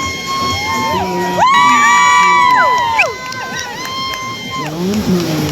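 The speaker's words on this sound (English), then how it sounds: "John getting probably the biggest cheers in the crowd" A crowd at a kayak rodeo cheers and whoops continuously, loud and close, with whistles and shouts rising and falling across the whole stretch.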